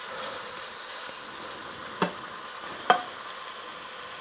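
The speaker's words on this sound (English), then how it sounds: "And we're just going to let it sizzle" Steady, quiet frying sizzle of beef browning in a pressure cooker pot crackles throughout, with two sharp clicks or pops standing out briefly over the hiss.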